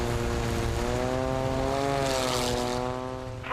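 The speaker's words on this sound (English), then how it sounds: "these great airplanes flying in the sky" A propeller airplane performs at an air show, its loud droning engine held steady and close, with the pitch swelling and then easing slightly as it passes.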